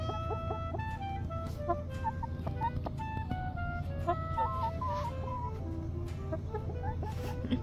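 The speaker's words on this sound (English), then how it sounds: "Pretty chickens." Chickens cluck and chatter in a steady stream of short, overlapping calls close by, with a low background rumble and no talking.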